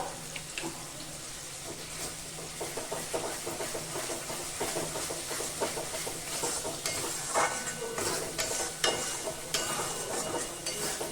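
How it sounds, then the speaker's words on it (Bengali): Ground spices with about a spoon of cumin powder are stirred and fried in oil in a pan for jackfruit curry. A close, steady sizzle runs throughout, with repeated scraping strokes of a spatula and no voices. "মশলাটাকে বেশ ভালো করে কিছুক্ষণ ধরে কষিয়ে নেব, যতক্ষণ না মশলা থেকে তেল ছেড়ে আসছে"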